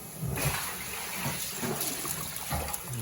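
Water flows and gurgles out of a clogged bathroom drain in a steady, moderately close wash of trickling and splashing, with no voices.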